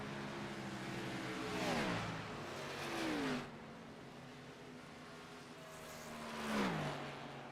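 Race cars pulling out of pit lane in iRacing at Michigan International Speedway: engines rev up and pass by in several rising and falling sweeps, fairly close, with no talk.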